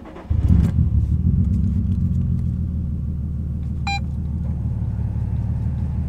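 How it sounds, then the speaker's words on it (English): A Nissan 350Z engine cranks and fires up after a short quiet start, then settles into a steady low rumbling idle nearby, with a brief faint chime partway through. "Let's go ahead and start the car up"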